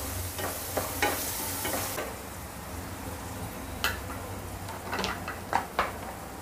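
Masala sautéing and being stirred in a pan over medium gas for khichdi, a steady soft sizzle broken by several sharp scraping stirs of the spoon, close and alone with no talk.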